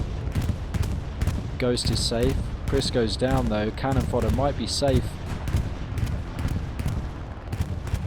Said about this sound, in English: Here comes a bombing run.